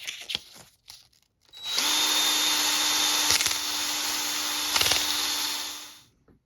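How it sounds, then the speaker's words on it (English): An electric drill spins a shaft against fine 600-grit sandpaper while restoring a Heathkit HW-101 radio: a steady, close whirring grind that starts after a couple of seconds, holds for about four seconds, then winds down. "what I do is I put it on the end of a drill. Take a really fine grade of sandpaper."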